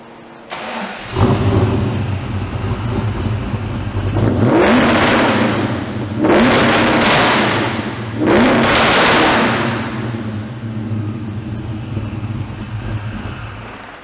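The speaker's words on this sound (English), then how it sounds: "Turn on the car, make sure everything running good." A car with a 5.0 engine cranks and starts, then runs loud and close, revving sharply three times before settling back to idle between and after the revs.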